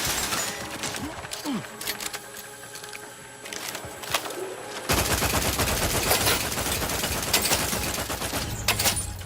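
Turret gunfire in Outer Worlds 2, rapid rattling bursts of automatic fire that grow denser and louder in the second half, a sustained mechanical clatter.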